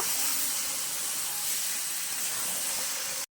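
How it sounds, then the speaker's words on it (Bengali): Marinated yogurt chicken added to fried spices in a pan, sizzling as a loud, steady hiss that carries evenly throughout and cuts off abruptly at the end, with no voices. "এবার আমি ম্যারিনেট করা মাংসটা দিয়ে দেবো এতে। এবার এটা ভালো করে একটু কষিয়ে নেব।"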